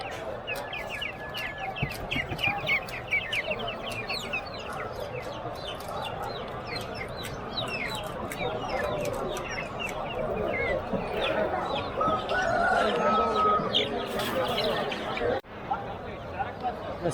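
Polish chickens cluck amid a busy bird and animal market in Baghdad, with scattered chirps and clucks over a dense hubbub of crowd chatter and voices throughout.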